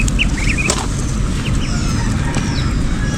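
Several ducks quack in brief bursts over a loud, rumbling outdoor background, with a few faint bird calls; no talking.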